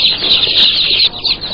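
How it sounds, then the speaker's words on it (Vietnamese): One-day-old chicks in a box on a poultry farm, giving a dense, continuous chorus of high, shrill peeps throughout, close and steady with no talking. "Đây là hộp gà con 1 ngày tuổi."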